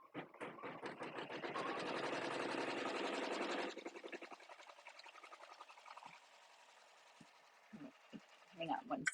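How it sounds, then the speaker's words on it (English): An embroidery machine stitches down the header on a zipper pouch, a fast rhythmic clatter for several seconds that then drops to a softer running sound, with a person talking over it. "So now it's going to start the header and stitch that down"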